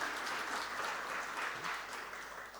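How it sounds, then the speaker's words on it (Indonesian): Applause from the audience at a piano masterclass, a steady dense wash of many hands clapping at moderate distance, sustained evenly for a few seconds. "beri tepuk tangannya juga itu"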